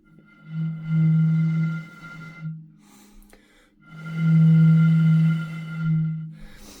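Ghost call prank made by blowing into a vessel partly filled with water, two long hollow moaning tones, each rising then fading, loud and close with a short pause between.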